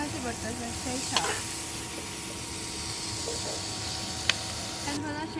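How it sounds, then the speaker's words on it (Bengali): Chopped onion and chilli fry in hot oil left over from frying fish, a steady close sizzle and hiss with a couple of sharp stirring clicks. "এখন এই তেলে আমি এখন দিয়ে দিব পেঁয়াজ কুচি আর মরিচ।"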